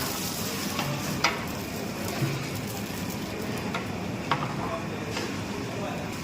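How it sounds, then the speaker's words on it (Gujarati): Mustard and fenugreek seeds tempering in oil and ghee in a large pot at a community cooking event, a steady dense sizzle with occasional sharp clicks of a ladle, faint voices in the background. "તેલ અને ઘીથી વઘાર કરવાનો છે"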